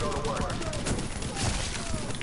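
Dense bursts of gunfire in the video game The Division fill the whole stretch, loud and continuous, with rapid overlapping shots and voices talking over them.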